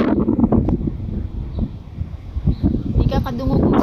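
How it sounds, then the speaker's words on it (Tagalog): Strong gusts in Kansas buffet the microphone with a deep, rumbling roar while a person talks. "Paling basko kang hangin ron bay."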